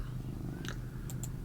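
A house cat purrs as a low, steady, continuous rumble close to the mic, with a few faint clicks over it and no talking.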